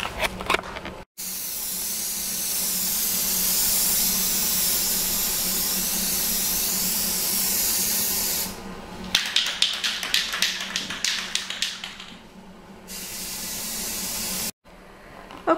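A primer spray paint can hisses in a long steady burst, then fires in rapid short sputtering spurts, close and fairly loud.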